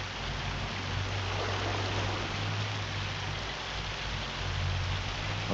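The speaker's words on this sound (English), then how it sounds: "I can't hardly see with all this rain here" Rain in a farming video game pours down steadily, a dense continuous patter on surfaces. A low machine drone runs beneath it throughout, with no talking.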